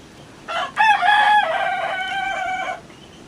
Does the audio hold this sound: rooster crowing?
yes